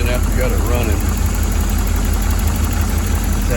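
A 1985 Porsche 928 with a five-speed, just revived after more than a decade in storage, idles loudly and steadily up close, with a constant low rumble and no change in revs.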